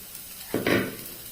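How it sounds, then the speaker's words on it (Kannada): Spices and chopped coriander leaves hit hot oil in a pan, giving a sudden loud sizzle that swells for a moment, then fades to a softer crackle, with no talk over it. "ಹಾಕಿ ಒಮ್ಮೆ ಚೆನ್ನಾಗಿ ಇದನ್ನೊಮ್ಮೆ ಹುರಿಯುವ."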